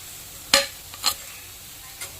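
Rava paniyaram cooks in a pan with a faint, steady sizzle, broken by two or three short scraping stirs.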